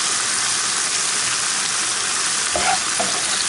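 Seafood simmering in a pan for a chermoula seafood salad, a steady broadband sizzle and bubbling close by, with a couple of brief clinks of a spoon near the end.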